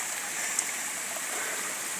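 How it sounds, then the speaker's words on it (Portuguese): Water flows over rocks in a natural stream, a steady broadband rush and trickle that holds an even level throughout, close and continuous with no talk. "O gostoso, meus amigos, é o barulho, cara, da água, tá vendo?"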